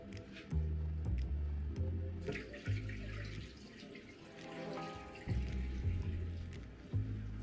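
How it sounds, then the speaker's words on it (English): Baked bacon, just out of the oven and no longer in the pan, sizzles and bubbles steadily with crackling, fizzy spatter, close and moderately loud, with low thumps and handling noise underneath and no talking. "It's still sizzling."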